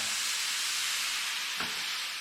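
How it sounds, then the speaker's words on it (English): Steady, dense sizzling hiss of döner kebab meat frying in an oil-free pan, continuous and close, with a faint brief thud partway through. "Right, here it all is, sizzling away."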